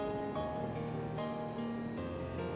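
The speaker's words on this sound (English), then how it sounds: "and it's raining outside." Steady rain patters outside, a continuous soft hiss with no voices, even and unbroken throughout.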